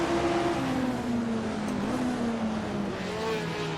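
Jim Clark's Lotus 49 race car, driven on a track, accelerates hard out of a crest, its engine note rising and falling with a raw, loud, close-up mechanical roar that stays continuous across the short stretch.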